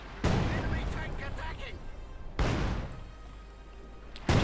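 Artillery barrage in the real-time strategy game Company of Heroes 2 during a 1v1 match, with three heavy booming blasts spread over a few seconds, each followed by a rumbling decay, while a commentator talks throughout.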